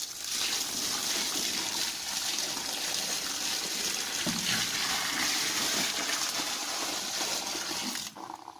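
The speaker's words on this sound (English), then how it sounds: "Then I'm just going to take this water and put it over it." Collected rainwater is poured from a container over a garden compost heap, a continuous loud gushing splash that runs for several seconds before tapering off at the end.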